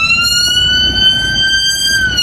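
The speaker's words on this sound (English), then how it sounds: "there's an ambulance" An ambulance siren wails steadily on a city street, loud and continuous with a slowly shifting pitch over low traffic rumble.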